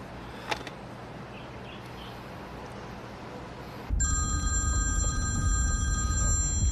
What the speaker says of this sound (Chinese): 隋先生，我终于等到你电话了。